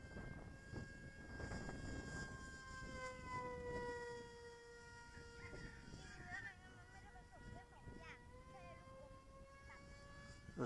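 Electric motor of an RC flying wing on a 4S battery, a thin whining tone that rises and falls with throttle, heard from a distance under wind rumble and a voice talking.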